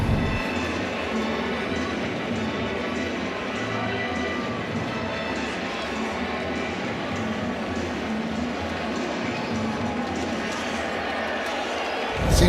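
A sellout crowd stands at a 2022 NCAA college baseball game between Texas and Texas Tech. A steady, dense roar fills the stadium while a commentator talks over it.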